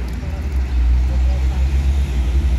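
A new Armada bus on the road in Aceh, a steady low engine drone and road rumble heard from close by, continuous throughout with people talking over it.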